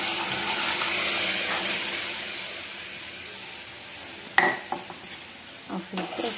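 Boiled dal with turmeric and salt stirred into softened tomatoes in a pot: a soft wet hiss at first, then a few sharp clinks and scrapes of a spoon against the metal pot.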